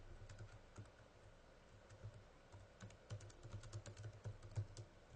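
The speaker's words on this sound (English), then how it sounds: "I just type out what I want" Fingers type on a computer keyboard in an editing program, with soft, irregular key clicks that pick up into faster runs toward the end, close and quiet with no speech.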